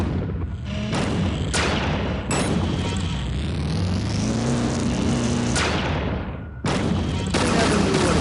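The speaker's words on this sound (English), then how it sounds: "Give the alternative fire a try. It builds up a charge and then releases a bigger blast." Charged alternative-fire blasts from the dispersion pistol in Unreal 2, several loud, sharp booming discharges with rumbling tails between them, close and dominant.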